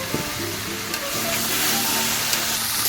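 Bagda prawns sizzle and fry in a covered pan over a fierce stove flame, a steady crackling hiss with a few light clinks and stirring noises.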